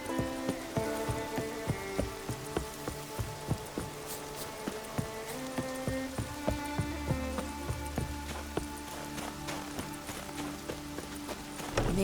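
Rain falls in The Witcher 3: Wild Hunt video game as a steady, dense patter. Clopping hoofbeats and soft background music sit under the rain at moderate loudness.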